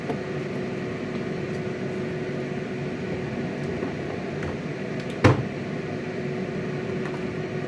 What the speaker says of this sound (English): I have to turn the fan on